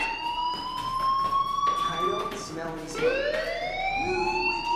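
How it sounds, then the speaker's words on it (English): A fire alarm in the video game Life is Strange rings steadily throughout, a loud, close electronic tone with rising and falling pitch sweeps, and a voice talks faintly beneath it. "do you hear that fire alarm?"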